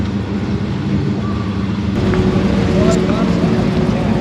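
An FPV 335GT car engine drones steadily on a hot lap, a loud continuous in-cabin roar with rising intensity partway through.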